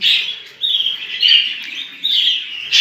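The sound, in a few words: budgerigars chirping, male feeding female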